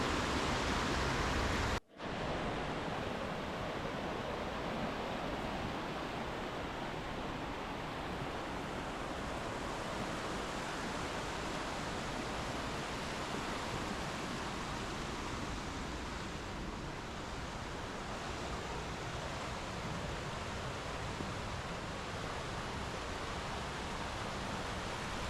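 A narrow stream rushes steadily at the bottom of a canyon below a waterfall in Juniper Sinclair Canyon, Canadian Rockies, a dense, close, unbroken wash of water noise that continues throughout, with one brief dropout near the start.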